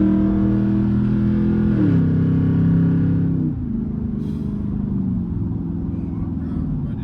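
Straight-pipe exhaust of a 2014 Jeep Grand Cherokee Overland Hemi drones loud and steady from inside the cab, the engine pitch dropping a little as it runs on under muffled road noise.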